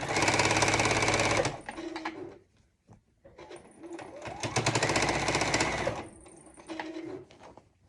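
A sewing machine stitches quilt binding in loud, fast bursts of rattling, stopping and starting with short quiet gaps between runs.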